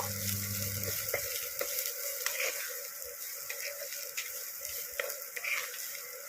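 Chopped onion sizzles steadily in a pan for poha pulao, with occasional clicks and scrapes of stirring over a continuous frying hiss, close and moderately loud.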